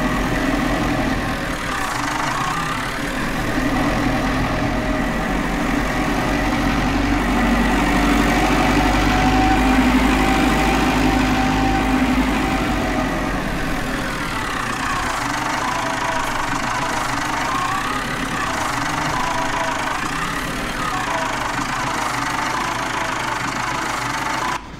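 An IMT tractor engine idles in Farming Simulator 19, a steady low diesel rumble with a knocking throb that holds loud and close for nearly half a minute, no voices over it.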